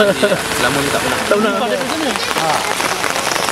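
Heavy rain falls steadily during a flood, with a dense wash of hiss under loud conversation from several people close by.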